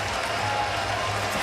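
A crowd at a Canadian football game in Toronto, Saskatchewan Roughriders against the Toronto Argonauts, cheers and applauds in a steady, moderately loud wash of noise.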